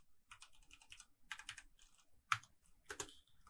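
Quiet typing on a computer keyboard, irregular bursts of soft key clicks with short pauses and a sharper keystroke near the middle, close and alone.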